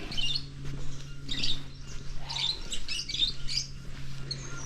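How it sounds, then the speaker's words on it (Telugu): Lovebirds chirp in rapid, high-pitched bursts, several calls overlapping nearby, over a steady low hum. "ఇవి లవ్ బర్డ్స్ అట"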